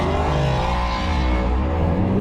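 Drift car spinning out, engine revving loudly and close with tyres scrubbing and squealing as the car slides, a continuous roaring motor that ends in a sharp burst.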